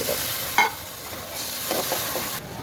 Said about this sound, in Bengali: দিয়ে এখন ভালো করে নেড়ে চেড়ে করে